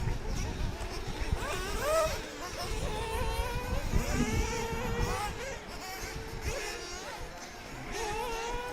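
Nitro RC buggies, Schumacher and X-ray cars, race at a European championship track, their high whining engines rising and falling as several cars rev and pass, mixed under a commentator talking.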